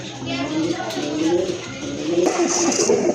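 Pigeons offered for sale, including a colorful pair of Giribaz birds and a female, coo softly at close range. A voice talks over the birds the whole time.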